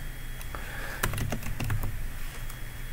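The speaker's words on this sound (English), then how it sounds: "I'll type it manually." A computer keyboard gives a quick cluster of close keystrokes about a second in, with a few scattered taps over a steady background hum.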